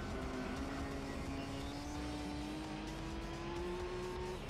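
A car engine in Gran Turismo 3 drones steadily with a slowly rising pitch as the car accelerates, moderately loud and continuous with faint tire noise, no voices over it.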